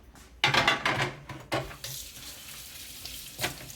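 A ceramic non-stick grill plate from a Ninja Foodi Smart XL Grill is rinsed under a running tap, with splashing bursts of water at close range that fade to a softer trickle before one more gush.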